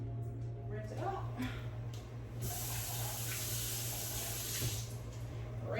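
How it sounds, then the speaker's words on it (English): Tap water runs and sprays into a marinade container being rinsed at a sink, a steady hiss with some clatter. Someone talks faintly over it. "Rinse it out."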